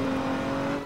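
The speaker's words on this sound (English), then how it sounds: "What is this noise? Fire trucks." Fire trucks in the video game Emergency Response, heard as a steady engine drone with sustained tonal whine, loud and close, no talking.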